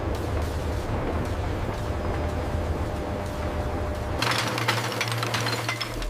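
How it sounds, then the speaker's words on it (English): A crushing machine in a Dove soap factory grinds soap into powder, producing a loud, steady industrial roar and rumble that shifts to a harsher, brighter grind for the final couple of seconds, with no voices. "Start the crushing cycle."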